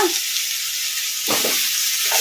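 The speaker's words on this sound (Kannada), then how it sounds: "ಈಗ ಇದನ್ನು ಅವಾಗವಾಗ ಕಲಿಸ್ಕೊಂತ ಫ್ರೈ ಮಾಡ್ಕೊಂಬಿಡೋಣ" Chicken frying in a pan hisses loudly and continuously while it is stirred, and a couple of soft scraping strokes show through the steady sizzle near the end, with no voices.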